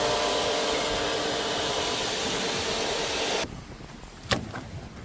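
A pressure washer sprays inside a Honda Sambar van, its loud steady hiss running for about three and a half seconds, then cutting off to quieter background with one brief sharp knock.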